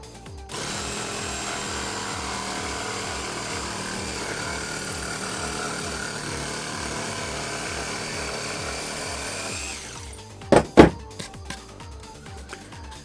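A Ryobi One+ R18JS cordless jigsaw cuts curves in wood with a zero-pendulum blade setting, buzzing steadily for about nine seconds before stopping, followed by a few sharp knocks and clatters.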